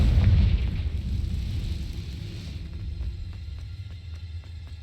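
A Confringo fire spell explodes in the Hogwarts Legacy video game, a loud, deep blast that rumbles and slowly fades over several seconds.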